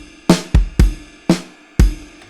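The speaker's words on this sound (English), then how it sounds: "So I've got this basic 16-step beat, which sounds like this." A basic 16-step drum pattern programmed in Studio One, with loud punchy kick and snare hits in a steady groove, five strong beats ringing out briefly over a short loop.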